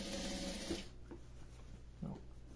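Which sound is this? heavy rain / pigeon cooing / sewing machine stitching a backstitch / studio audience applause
sewing machine stitching a backstitch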